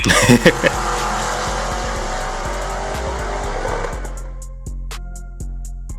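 A car engine roars loudly with tire squeal and skidding at first, then the engine note drops into rhythmic popping and idling bursts.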